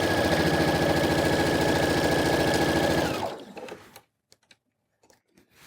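A sewing machine runs steadily at speed, stitching collar points with a dense rapid whirr for about three seconds before stopping, followed by a few faint clicks and handling noises.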